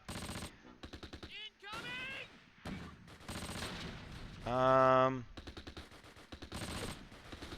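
Gunfire from the WWII strategy game Close Combat Last Stand Arnhem: rapid machine-gun bursts and scattered rifle shots in repeated clusters, with someone talking over parts of the action.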